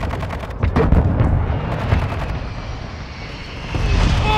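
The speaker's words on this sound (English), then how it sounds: "Friendly mortar strike on the way." Heavy rumbling blasts and battle noise from a mortar strike in Call of Duty: Modern Warfare 2, loud, low booms with gunfire crackle and a roaring aircraft-like drone throughout.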